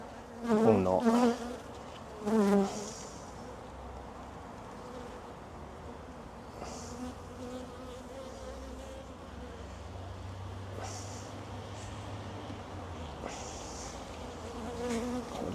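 Honeybees buzz steadily around an open hive during an inspection of brood frames, a continuous droning hum with a few louder, closer passes near the start and short bursts later on.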